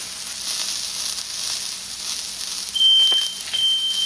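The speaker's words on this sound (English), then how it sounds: "Apparently I set my fire alarm off." A smoke alarm emits two high, piercing beeps over a steady sizzling hiss of food frying in spray oil close by.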